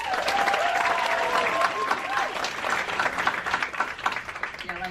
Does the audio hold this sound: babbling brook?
no